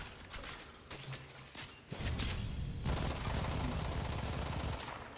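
AK rifle fire from the shooter game Warframe: scattered shots and mechanical clicks at first, then a sustained, loud rapid-fire burst that runs steadily to the end, with no voices over it.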